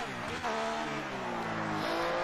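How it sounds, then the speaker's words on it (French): A Ferrari V12 engine in the F1 2018 racing game revs loud and steady, its layered harmonic whine climbing in pitch as the car accelerates, with a brief dip before pulling hard again. "Un son très particulier du moteur V12 de la Ferrari."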